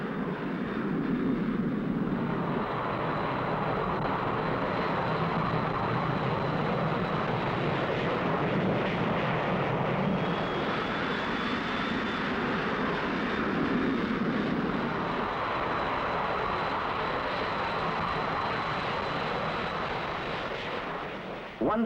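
An Avro Vulcan jet bomber powered by Rolls-Royce Olympus engines roars steadily and loudly throughout, a broad continuous engine rumble with a faint high whine, no voices.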